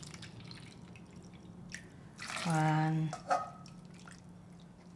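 Cold water, or the soaking water from black beans, is poured into a cooking pot in one brief splashing pour that lasts about half a second, followed by a small drip, within a quiet kitchen.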